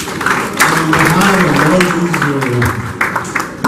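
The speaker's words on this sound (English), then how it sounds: "Please give a round of applause." Audience applause at a pharmacy event, dense clapping from many hands with voices talking and calling over it throughout.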